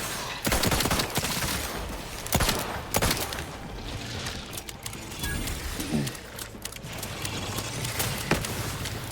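Rapid gunfire from a weapon in The Outer Worlds 2, a loud burst of close shots early, then scattered cracks and volleys continuing under game ambience.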